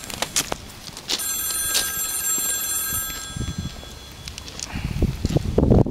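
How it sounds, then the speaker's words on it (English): A telephone rings with a bright electronic trill in the middle of the clip, over rustling and scattered footstep-like knocks and thuds nearby. "Do you hear my phone ringing?"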